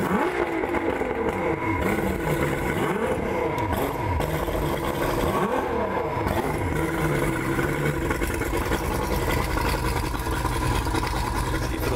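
A Ranger engine runs steadily during a test fire, a loud continuous motor drone with rising and falling pitch sweeps like revving, close by and alone without talk.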